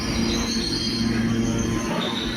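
A train rumbles past Doddaballapur railway station continuously with a high, sustained squeal of wheels on the rails, loud and close, with no one speaking.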